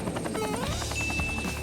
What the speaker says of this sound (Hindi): ये क्या है? एक हेलीकॉप्टर?